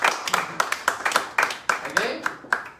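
Audience clapping at an event, a run of sharp, fairly evenly spaced hand claps, close and moderately loud, with talk in the background.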